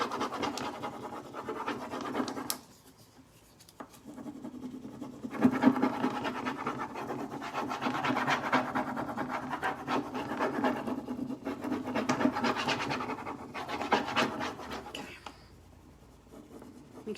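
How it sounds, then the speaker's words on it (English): Steady scratchy rubbing of a decor transfer sheet being pressed onto a hand-painted furniture piece, continuous rasping strokes close by with a brief pause, and quiet speech in places. "you just want to make sure you're rubbing it on very well."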